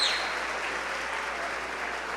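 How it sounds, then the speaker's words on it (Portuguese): Steady applause from a large audience at a Christian youth camp gathering, a dense wash of clapping that starts loud and stays even for the whole stretch, with no talk over it. "Aplauda aí porque ela veio aqui no Acamp!"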